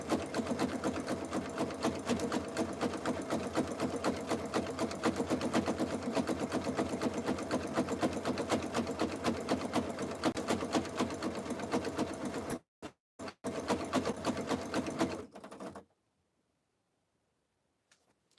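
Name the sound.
sewing machine stitching wide zigzag on jelly roll rug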